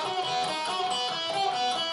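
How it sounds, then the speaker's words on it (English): Distorted electric guitar notes picked steadily back and forth, dense and bright with no voices, a short even passage. "when I'm just alternate picking it,"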